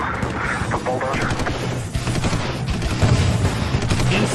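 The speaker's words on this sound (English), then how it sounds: "we've had automatic weapon fire coming from the bulldozer." Automatic weapon fire from an armored bulldozer, dense bursts of rapid cracks crowded over a loud, rumbling mix with voices, continuous and close throughout.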